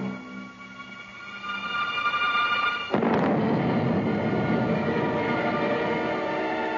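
Atomic artillery gun fired at the Nevada test site, a sudden heavy blast about halfway through followed by a long roaring rumble, on old narrow-band film sound.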